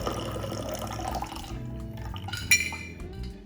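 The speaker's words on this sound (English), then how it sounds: "then we're going to strain into a double old-fashioned glass" A shaken Tia Mia cocktail strained from the tin into a double old-fashioned glass, a short close liquid pour that tapers off, then a single bright clink of glass.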